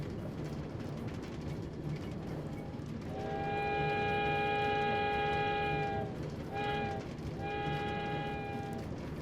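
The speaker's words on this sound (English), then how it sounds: "The mighty locomotive, climbing to the top of the tunnel." Locomotive in a Minecraft modpack (Infinity Evolved) climbing through a tunnel, a steady rumbling running noise under a long multi-tone horn blast, a short gap, then the horn sounding again, fairly loud and close.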